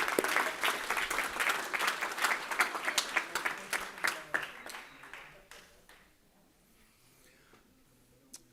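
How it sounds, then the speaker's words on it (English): An audience at an improv comedy talk at a security conference applauds in a dense burst of clapping that holds for several seconds, then thins to a few scattered claps and fades out. "one big round of applause again for him"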